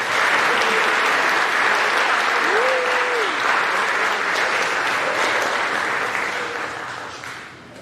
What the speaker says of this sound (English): Please give a nice round of applause for all of our honor students.